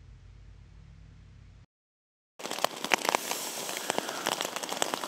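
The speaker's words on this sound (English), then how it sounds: "As you can hear, the rain's on." Rain comes down outdoors as a dense, crackling patter of drops hitting surfaces, starting after a quiet stretch and a brief silence and then continuing steadily and fairly close.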